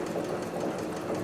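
A walking foot sewing machine stitches through four layers of chrome tan upholstery leather, a steady close mechanical whirr with fast rhythmic needle thumps running continuously.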